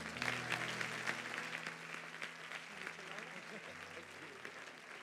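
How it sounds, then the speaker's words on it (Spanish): A church congregation at a southern Chile conference claps for the Lord, steady applause with an organ or keyboard chord sustained beneath it and a faint voice. "Dale el mejor aplauso al Señor"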